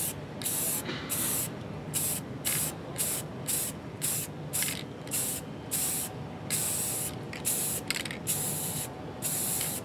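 Aerosol spray paint hisses in repeated short bursts, about fifteen evenly spaced blasts with brief gaps, as a coat is applied to model terrain trees for a tabletop game; close and steady, with no talking.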